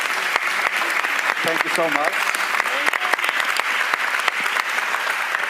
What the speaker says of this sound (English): Please join me in a round of applause for our panel.